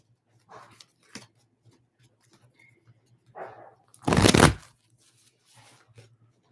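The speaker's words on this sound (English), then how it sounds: "a couple more shuffles." Tarot cards being shuffled close up in a few separate bursts, with one loud riffle near the end among quiet rustles.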